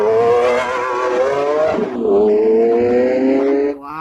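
A white toy Lamborghini Aventador race car gives off a loud, near electronic engine whine that rises and sweeps in pitch, shifts once partway through, then cuts off near the end.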